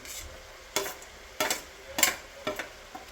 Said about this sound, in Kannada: ಇವಾಗ ಶುಂಠಿ ಬೆಳ್ಳುಳ್ಳಿ ಪೇಸ್ಟ್ ಸ್ವಲ್ಪ 1 ಸ್ಪೂನಷ್ಟು ಶುಂಠಿ ಬೆಳ್ಳುಳ್ಳಿ ಪೇಸ್ಟನ್ನು ಹಾಕ್ಕೊತಾ ಇದ್ದೀನಿ